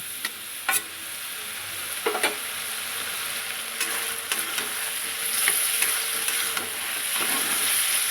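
Ground cumin, coriander, chilli powder, turmeric and salt stirred with a splash of water in a pan while cooking a Bengali shol fish and radish dish, with steady sizzling under a scraping spatula and a few louder clacks, no talking.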